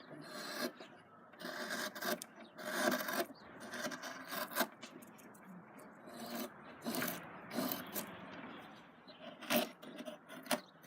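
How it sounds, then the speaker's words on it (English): A knife carves fine shavings from a wooden shoe last, producing soft, irregular scraping and rasping strokes, close but quiet, with short pauses between cuts. "taking fine shavings minimises the risk of it splitting out on me."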